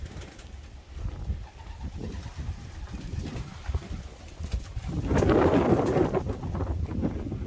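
Racing pigeons coo in a loft, a low murmuring flock sound that swells louder toward the end amid some wind noise and rustling.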